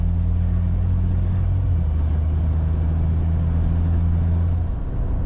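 A BMW N54-engined car with a single mass flywheel and a swapped DCT gearbox cruises under load at low speed, giving a steady, loud low engine drone with a faint rattly texture and a slight pitch drop partway through.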